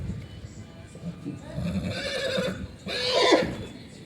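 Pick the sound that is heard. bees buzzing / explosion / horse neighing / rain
horse neighing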